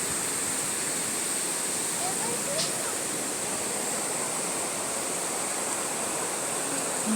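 Flowing water from a river or waterfall rushes as a continuous broad hiss, steady and fairly loud throughout with no clear breaks.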